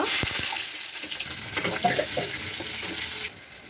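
Mustard seeds, dried red chilli and onion hit hot oil in a pan, giving a dense, close crackling sizzle with sharp pops and spatters near the start that holds steady, then drops to a quieter hiss at the end.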